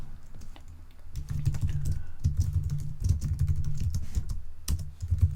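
Code being typed on a computer keyboard, with quick, close clicking keystrokes in irregular bursts that get busier after a short quiet start.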